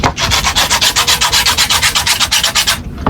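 A shoe sole being sanded by hand with sandpaper on a KD sneaker, a fast steady back-and-forth scratching rhythm of about fifteen close, loud strokes with no talking.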